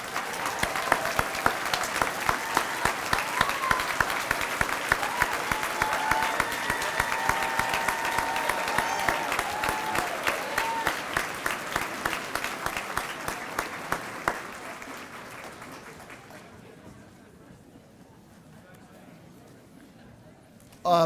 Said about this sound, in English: we'll give you a round of applause to start us off